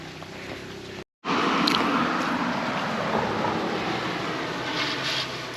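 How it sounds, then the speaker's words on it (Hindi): Small mountain waterfalls and streams along the road from Manali to Marhi rush with a steady, loud, broadband roar, broken by one brief dropout near the start. "जो ये छोटे छोटे झरने या जो भी कहता है इसको बह रहे हैं"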